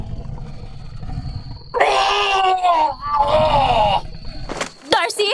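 A man screams in two long, strained, wavering cries, loud and close, in a rural village during a fiesta where aswang creatures prowl, with a shorter sharp cry near the end over a low rumbling background.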